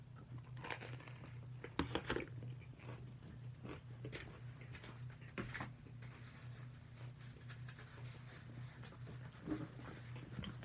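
Quiet crunching and chewing of a bite of Red Baron deep dish pizza, with soft irregular crackles and smacks close to the mouth over a steady low hum. Nobody speaks.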